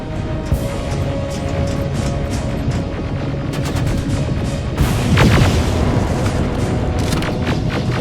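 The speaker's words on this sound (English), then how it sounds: "Rockets! They're heading this way!" Rocket explosions and gunfire from the video game Terminator Resistance, in a final battle: dense, continuous booms and crackling shots, with a louder, heavier blast around the middle and sharp bursts continuing after it.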